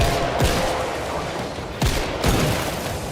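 Gunfire in a video game shooter from hip firing, with a few sharp shots around the start and a second burst later, all set over a busy, noisy game soundscape with no talking.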